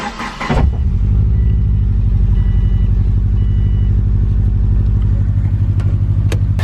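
A 2.0 RS car with a transmission problem cranks and catches, then settles into a steady, throbbing idle that runs close and loud for several seconds.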